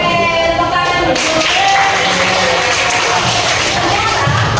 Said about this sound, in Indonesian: ayo, oke, tepuk tangan dulu.